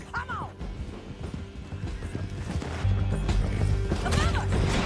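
Horse in Red Dead Redemption 2 giving a couple of loud whinnies, with hoofbeats clattering and galloping underneath, some crashes and mechanical clatter mixed in, and voices faintly in the background.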